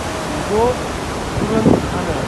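Yosemite waterfall water rushing beneath a footbridge, a steady broadband roar filling the clip, with brief voices and a few faint tonal bits over it.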